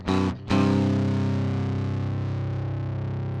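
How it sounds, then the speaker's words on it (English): Overdrive distortion from a Mackie ProFX6 mixer's effects adds a gritty, buzzing edge to a clean guitar chord, struck twice in quick succession and then left to ring and slowly fade. "It's actually just adding the sound of distortion to the incoming clean guitar signal"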